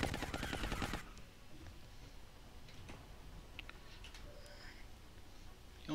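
Gunfire in XCOM: Long War, a short rapid burst of automatic shots in the first second, then quiet ambience with faint ticks and clicks.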